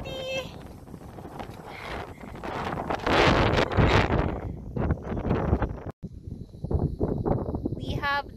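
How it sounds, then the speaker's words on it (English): Strong wind gusting through an empty summer park in Japan, buffeting the microphone in loud roaring surges with rustling, while voices speak over it. "Oh, it's so windy!"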